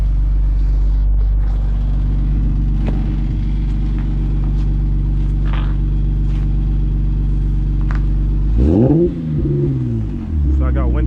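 An Infiniti G37 with a built VQ engine idling loudly and close, a deep steady rumble that swells into a short rev near the end, with a few faint background noises.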